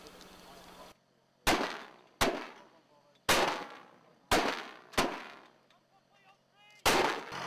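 Mortar rounds fired one after another during live firing practice on ranges at Kandahar, six sharp booming reports at uneven intervals, each decaying with a rolling echo, loud and fairly near with no talk.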